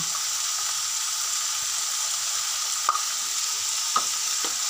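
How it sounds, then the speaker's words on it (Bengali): Paneer frying in a pan with salt, turmeric and cumin powder. A steady, loud sizzle hiss runs throughout, broken by a few brief utensil taps. "দিয়ে এটাকে ফ্রাই করতে থাকলাম"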